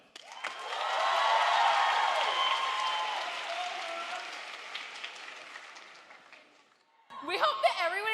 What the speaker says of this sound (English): let's give our MCs one big round of applause